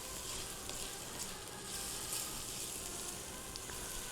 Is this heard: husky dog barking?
no